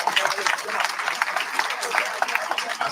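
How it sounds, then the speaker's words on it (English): A round of applause from the audience at a township inauguration ceremony, a crowd clapping in quick scattered claps at moderate volume, with a voice speaking over parts of it. "Let's give him a round of applause."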